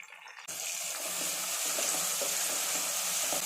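A handful of mint leaves and curry leaves hit hot oil in a pan for a chicken curry, bursting into a loud, continuous sizzle after a brief quiet start, with soft stirring scrapes underneath.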